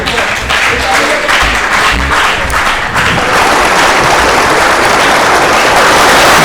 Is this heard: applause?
yes